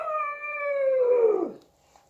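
A person imitating a monster howl: one drawn-out wavering vocal howl that slides downward and trails off after about a second and a half, loud and close, followed by quiet.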